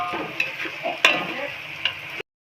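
Onion frying in a pan with salt for a chicken biryani, a steady close sizzle with a few sharp clicks and stirring scrapes, heard alone.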